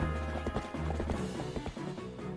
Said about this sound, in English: they're forcing us to actually get around on horseback a little more